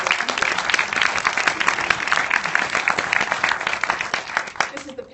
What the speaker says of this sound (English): You give Haydn a round of applause.